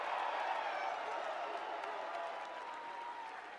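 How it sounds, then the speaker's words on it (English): A large indoor crowd applauds steadily at a US Naval Academy Class of 2023 ship selection night, the clapping fairly distant and tapering off slightly over a few seconds. "How about a round of applause?"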